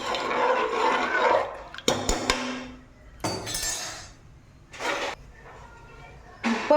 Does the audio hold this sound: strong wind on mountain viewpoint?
no